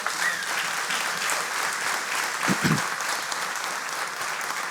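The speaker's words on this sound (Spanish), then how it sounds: "Démosle un aplauso al Señor." A church congregation applauds during a Spanish-language service led by a pastor, a continuous, moderately distant roar of clapping that holds evenly throughout, with a brief low bump partway through.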